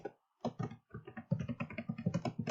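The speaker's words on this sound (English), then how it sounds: "I'm going to go ahead and type in there" Rapid typing on a computer keyboard, a quick close burst of clustered key clicks after a brief pause, with no voices.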